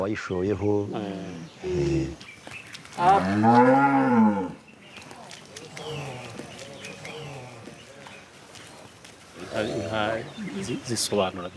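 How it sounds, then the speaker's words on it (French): Rwandan cattle give a long, loud, close moo, with fainter lowing around it, while people speak over and between the calls. "Ces vaches représentent tellement de choses."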